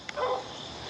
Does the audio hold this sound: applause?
no